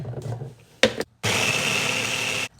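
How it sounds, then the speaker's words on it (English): Mini blender chopping chillies and garlic: a short whirring burst, a pause, then a steady loud high-pitched motor whine for over a second that cuts off abruptly, close by. "Either chop them or I'll put them in my mini blender."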